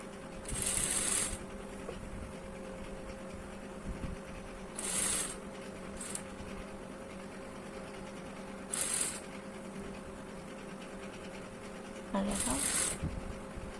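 A sewing machine stitching a round neck on a blouse runs in four short, close bursts spread across the stretch, with a steady background hum and a voice talking between the runs.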